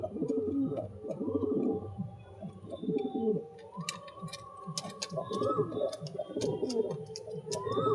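Close, repeated low throaty cooing of an old male pigeon, rolling coos overlapping one another, with faint ticking clicks and a voice now and then in the background.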